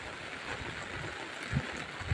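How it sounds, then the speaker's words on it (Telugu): Heavy rain and wind outside during a rainstorm, heard as a steady, fairly quiet broadband wash of noise with a low rumble underneath and no one speaking. "మీకు సౌండ్, గాలి, వర్షం మొత్తం సౌండ్స్ అర్థమవుతూ ఉంటుంటాయి"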